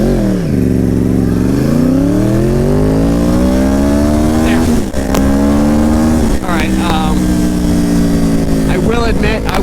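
A Yamaha R1 sport motorcycle accelerating from a standstill toward 60 mph, its engine note climbing loudly through gear changes, close and continuous with rushing wind.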